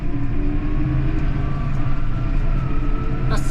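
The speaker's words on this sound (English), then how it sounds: "that's the 7S on the road, very, very comfortable" A Massey Ferguson 7S 180 tractor drives along a road, its engine a loud steady drone heard from inside the cab, continuous throughout with no speech.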